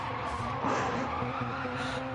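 Car tires skid and squeal in the racing game Wreckfest, a continuous close screech over a low engine drone.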